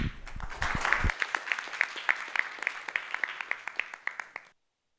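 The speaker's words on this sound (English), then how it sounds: "Let's give them a warm round of applause to welcome them on stage." Conference audience at Off-By-One 2025 applauds to welcome speakers onto the stage, a burst of dense clapping that thins into scattered individual claps before stopping.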